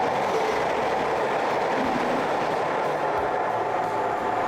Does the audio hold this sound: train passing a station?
yes